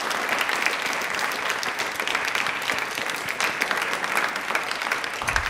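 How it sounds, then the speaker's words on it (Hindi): Steady, dense clapping from an audience at a quiz event marking Birsa Munda's birth anniversary and Tribal Pride Day, continuous and moderately loud throughout, with no talking. "तालियां प्लीज एक बार जोरदार हो जाए।"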